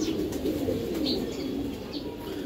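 A pair of Giribaz racing pigeons from a 75 km tournament line cooing close by, a steady low rolling coo that continues throughout with a few faint chirps over it.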